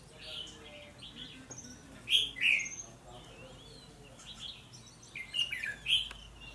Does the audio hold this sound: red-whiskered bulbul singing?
yes